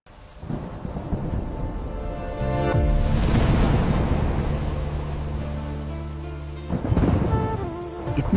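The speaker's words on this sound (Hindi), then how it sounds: "इतने समय बाद वर्षा हुई और धरती पर फिर से हरियाली लौट आई" Loud thunder rumbles and cracks over steady rain pouring onto the ground, a heavy clap building midway and another rolling burst near the end, with no voices.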